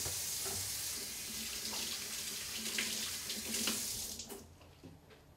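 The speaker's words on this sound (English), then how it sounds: "Wash up, because I have eggs all over my hands." A kitchen tap runs steadily while someone washes egg off their hands, a continuous hissing stream of water that cuts off near the end.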